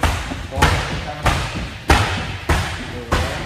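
Single strong strikes in a combat training drill land as five heavy, close thuds at a steady rhythm, about one every 0.6 seconds, each with a brief sharp attack.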